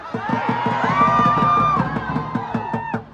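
Crowd of protesters at a Free Palestine rally, rhythmic chanting and shouting from many voices in unison, loud and close with a sustained cry in the middle.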